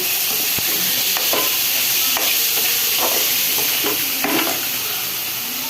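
Curry being sautéed and stirred in a pan, with fish frying nearby, gives a steady close hiss of sizzling oil, broken by irregular scrapes and clinks of stirring.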